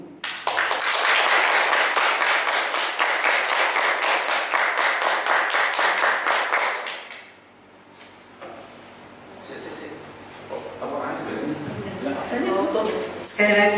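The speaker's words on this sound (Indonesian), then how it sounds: "beri tepuk tangan yang paling meriah Bapak Ibu untuk CKP kita pada sore hari ini" Audience applause at a school closing event in Indonesia, a dense burst of clapping from many hands for about seven seconds, then fading into room noise with a few scattered sounds.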